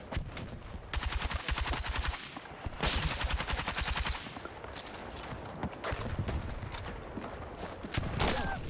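Gunfire in the Battlefield 6 video game, repeated rapid bursts of shots with short pauses between, fairly loud and continuous over a few seconds.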